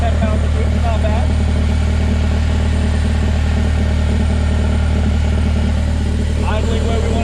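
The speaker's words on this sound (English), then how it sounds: "Idling where we want it to idle." A Porsche 996 with a swapped Honda K-series engine idles steadily with a low, constant rumble, while voices chatter intermittently over it.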